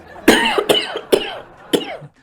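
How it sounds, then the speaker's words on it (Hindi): A person coughs four times in sharp, close bursts spaced about half a second apart, with no other sound between them. "आपको खांसी हो रही है, मैं आपको दवाई दूं?"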